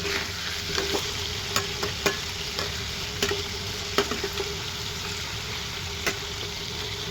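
Pieces of meat turned and frying in a pan for a spiced braise, a continuous soft sizzle broken by scattered sharp clinks and scrapes of a utensil stirring, close and without talk.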